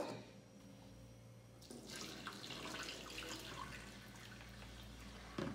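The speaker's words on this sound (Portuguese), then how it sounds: "Aí eu boto uma água da torneira fria pra poder lavar o frango bem lavadinho." Cold water from a kitchen tap runs steadily into a sink to rinse raw chicken, a close, continuous splashing rush that starts abruptly and carries on to the end with no talk.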